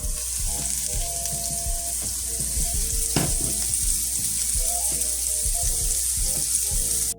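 Onions and mushrooms fry in oil in a pan, giving a steady close sizzle and crackle that carries through the whole clip, with a few clinks and scrapes of stirring.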